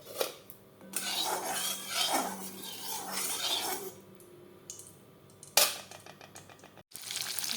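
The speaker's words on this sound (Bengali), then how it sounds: "মাছটা দিয়ে দিলাম, মাছটা ভাজা হোক।" Hilsa fish frying in hot oil in a wok: a dense, steady sizzling hiss that swells and fades, with a few sharp clinks of utensils near the end.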